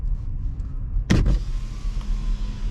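A 2022 Renault Arkana E-Tech hybrid's power window whirs down in one short electric hum, heard close inside the cabin over a low steady road rumble while driving on electric power at night.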